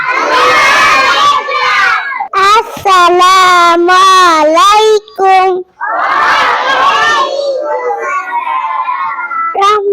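A crowd of children shouts in unison in loud, chanted bursts, answering a takbir call at a children's speech training event; the rhythmic group cries are close and energetic, with brief pauses between phrases.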